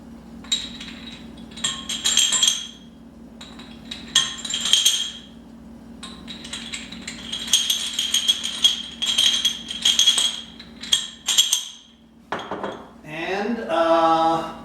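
Metal rods clink and rattle against each other in repeated bursts as they are loaded, with a steady low hum underneath and a brief rush near the end.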